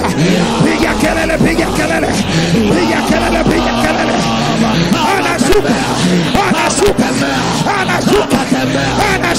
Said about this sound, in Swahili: Piga kelele.